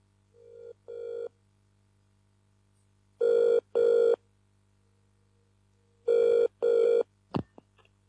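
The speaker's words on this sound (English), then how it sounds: "Get him on the phone." A telephone rings in two clear double bursts after a brief partial ring, loud and close against a quiet background with a low steady hum.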